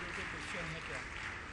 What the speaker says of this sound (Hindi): आप लोग जोरदार तालियां बजा दीजिए राकेश जी सिंघई के लिए।